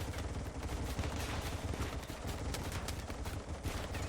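Rapid, sustained gunfire from a RimWorld battle with Warhammer 40,000 orks, a dense continuous clatter of many overlapping shots filling the whole stretch with no pauses.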